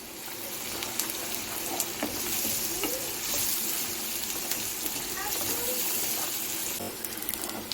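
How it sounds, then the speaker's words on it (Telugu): Onions with curry leaves and turmeric frying in a pan for a bitter gourd curry, a dense continuous sizzle with stirring scrapes, and a voice faintly present underneath. "ఇలా వేగినాయి కదా ఉల్లిపాయలు"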